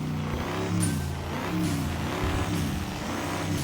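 A Euro II Walea car engine in the RevHead game runs and revs steadily, a continuous close, loud drone with rising and falling pitch and no talking.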